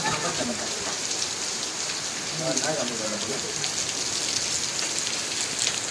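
Steady rain pours on a village, a dense continuous hiss throughout with faint murmuring voices underneath.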